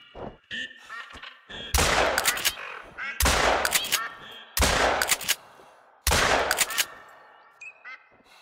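A shotgun fires in The Hunter: Call of the Wild at a duck hunting spot: four loud booming blasts, evenly spaced about 1.5 seconds apart, with faint duck calls between shots.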